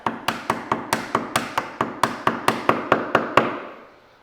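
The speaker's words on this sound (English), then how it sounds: "I just put the very edge of my chisel against what I want to cut right there. And then lightly I tap it" Light chisel taps on wood while hand-cutting corner dovetails: about sixteen crisp, evenly spaced strikes, close and moderately loud, each with a short ringing decay, no voices.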